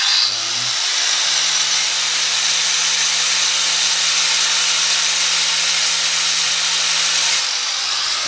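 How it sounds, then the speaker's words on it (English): An angle grinder runs against the edge of a Fiat 500 brake disc, a loud, steady high-pitched whine with a constant grinding hiss that holds for several seconds before spinning down. "we might just put the angle grinder on the very edge of the disc"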